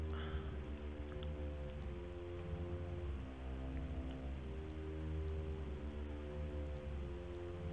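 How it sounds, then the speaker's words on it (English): Steady rain patters continuously on a surface in the video game Project Zomboid, with a low droning hum underneath and no voices. "It's still raining outside."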